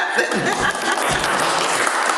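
Audience at a Southeast Asian poetry evening breaks into brief, dense applause, steady clapping close by with a faint chuckle mixed in.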